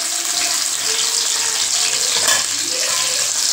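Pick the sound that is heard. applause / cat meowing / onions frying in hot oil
onions frying in hot oil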